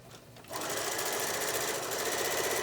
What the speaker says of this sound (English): just sew the hem down.